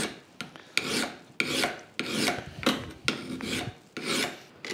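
Steel edges of an old hand saw held in a vise being filed to remove burrs, a series of about eight rasping strokes in an even back-and-forth rhythm, close and crisp.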